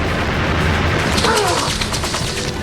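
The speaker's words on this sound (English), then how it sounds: "The bullets from the American P-47s tear through his Messerschmitt" Bursts of machine-gun fire from American P-47 fighters rip into a Messerschmitt, a loud rapid crackle of shots over a rumbling engine drone, with a brief whining sweep in the middle.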